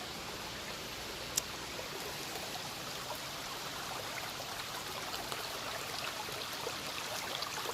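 River water flowing over a rocky stretch of bank, a faint continuous trickling and babbling wash with a few tiny splashes, steady and unbroken with no voices.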